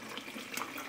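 Water runs from a faucet into a humidifier tank held at the sink, a steady close rushing stream with no pauses or talk.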